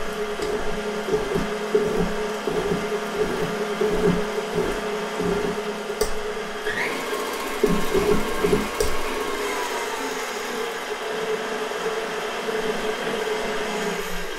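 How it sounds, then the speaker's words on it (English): A stand mixer with its paddle attachment beats paczki dough, giving a constant motor hum with rhythmic thumping that settles into a smoother drone toward the end. "I'm going to put it on my mixer. And I'm going to use my paddle attachment right now"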